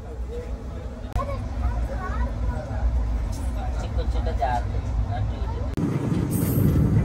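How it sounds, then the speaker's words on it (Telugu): Narsapur Dharmavaram Express pulling out toward Kaikaluru, heard from inside: a steady low rumble of wheels and carriage noise with someone talking over it, a sharp jolt near the end. "సరే మొత్తానికి అయితే మన ట్రైన్ బయలుదేరింది కైకలూరు వైపు."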